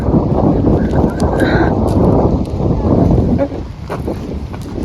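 Gusty wind buffets the microphone with a loud, rumbling roar, briefly easing and returning, while a voice speaks beneath it.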